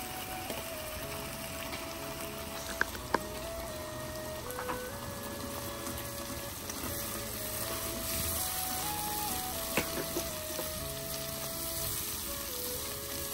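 Ginger, garlic and green chilli paste fries in a pan for a Bengali red spinach and tiny shrimp dish, a steady low sizzle running the whole time with a few faint clinks from stirring.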